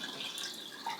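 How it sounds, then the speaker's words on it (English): Warm water streams from a tap into kombucha jars, a steady hissing splash with no voices. "So I got some warm water to just finish filling these jars up."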